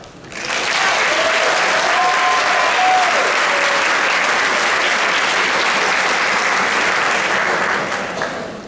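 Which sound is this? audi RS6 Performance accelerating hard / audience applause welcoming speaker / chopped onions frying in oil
audience applause welcoming speaker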